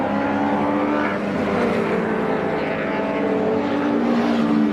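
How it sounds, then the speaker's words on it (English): A Renault 5 Turbo race car passes during qualifying at Brands Hatch, its engine a loud, sustained roar that holds steady for several seconds with no one talking over it. "That's David Clark in the Renault 5 Turbo. Wow. I saw that coming through"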